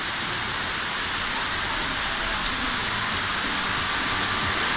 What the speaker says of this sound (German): Ansonsten schon dieser Sound von dem Regen ist total ultra krass, total ultra.